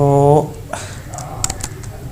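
Computer keyboard keys clatter in a quick run of taps while Urdu is typed on a Windows 10 PC, close and crisp, following a brief spoken voice at the start.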